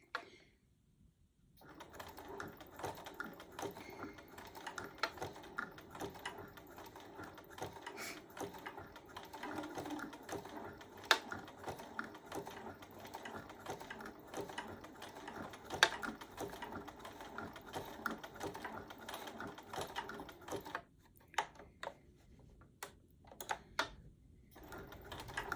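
A sewing machine stitches a gingerbread mug rug in a fast, fairly faint mechanical patter that runs for most of the stretch. The stitching pauses briefly around curves and stops near the end.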